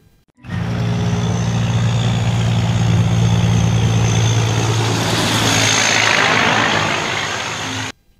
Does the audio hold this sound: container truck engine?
yes